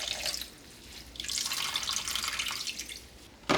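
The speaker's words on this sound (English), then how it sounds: "We're squeezing as much of the whey out as possible." Whey drips and trickles steadily from farmer's cheese squeezed in a mold over a large plastic container, a continuous close wet patter with a brief louder splash at the end.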